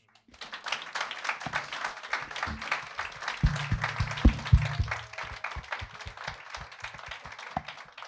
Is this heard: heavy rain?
no